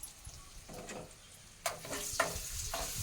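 A chili and salt mixture frying and being stirred in a pan before rice goes in, with a soft steady sizzle punctuated by several sharper scraping strokes of the spoon, close and fairly quiet with no talking.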